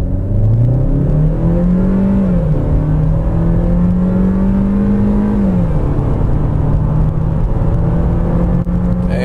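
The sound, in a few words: 2015 Chevrolet Trax 1.4 liter accelerating hard from a stop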